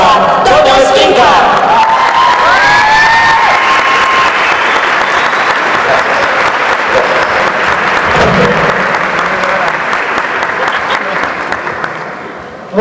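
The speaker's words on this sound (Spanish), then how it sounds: "Recibamos con un caluroso aplauso a Antonio Esquinca" An audience at a 2017 congress gives loud, sustained applause mixed with scattered cheers and whoops, fading slightly near the end.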